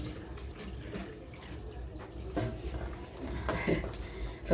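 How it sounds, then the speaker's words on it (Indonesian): Hands wash under running tap water in a kitchen, a steady close splash with irregular louder bursts as the hands move through the stream. "Yang penting tangan kita cuci bersih dulu."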